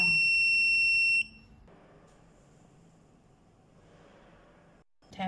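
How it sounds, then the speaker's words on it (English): A loud electronic buzzer on a K18 anti-spy detector beeps steadily for about a second with bright tonal harmonics, then cuts off, leaving quiet background noise and a faint click. "now the light on the top is light and the buzzer is beeps"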